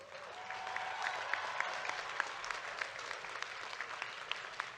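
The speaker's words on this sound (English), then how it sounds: "please join us in a round of applause for our soon-to-be graduates." Audience at a college commencement applauding the graduates, a steady, moderately distant wash of clapping from a large crowd that continues throughout.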